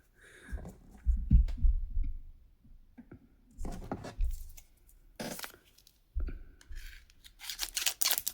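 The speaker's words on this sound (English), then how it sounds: "I'm gonna get my trusted scissors" Scissors snip and cut through the packaging of a Nubia Z70 Ultra Starry Night phone box in several separate bursts of close, crisp cutting and rustling, with pauses of quiet between them.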